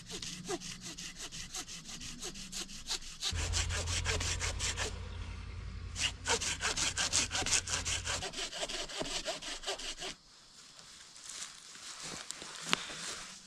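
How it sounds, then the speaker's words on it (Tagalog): A handsaw cuts through a dead, dry pine tree outdoors, producing rapid, rhythmic rasping strokes in steady bursts with brief pauses between runs. The sound is close and fairly loud, with no talking. "Hindi ko lang alam kung kakayanin ng ating handsaw. Pero subukan natin."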